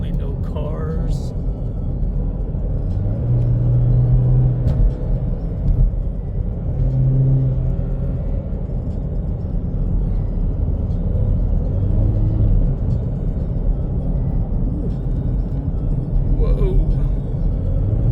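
A Chevy Camaro turbo inline-4 drives along winding hill roads, its engine a steady low rumble with mild rises in revs, heard from inside the car under continuous talking.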